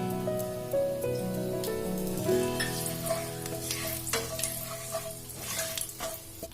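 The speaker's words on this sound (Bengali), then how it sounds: "গরম মশলা, তেজপাতা, মেথি, মৌরি সব আমার হালকা ভাজা ভাজা হয়ে গেছে।" Whole garam masala spices (cardamom, cloves, cinnamon) with bay leaf, fenugreek and fennel seeds frying in oil: close, busy sizzling and crackling with scattered pops and light stirring clinks, with no voice.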